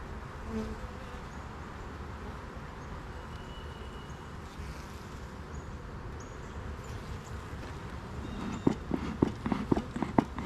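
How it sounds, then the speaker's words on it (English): Honey bees buzz in a dense, constant drone during a beehive inspection, with a few handling knocks and clicks near the end. "Look at all these bees."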